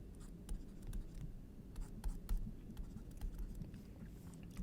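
Faint scratchy strokes of handwriting as an electron configuration is written out, quiet irregular pen or marker scrapes with no voices.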